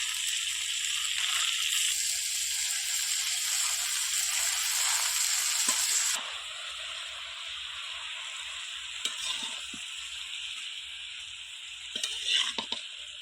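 Spinach frying in a pan and giving off its own water makes a bright, loud hiss that drops to a quieter sizzle halfway through, with a few scattered stirring clicks near the end and no voices.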